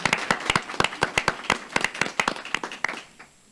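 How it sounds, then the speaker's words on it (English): A small group at an organizational school board meeting applauds a board director with sparse, distinct individual claps that are close and crisp, rising and thinning over a few seconds. "Another round of applause for Director Gokul Gandhi."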